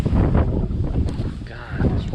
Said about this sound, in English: Wind is just a total nightmare today.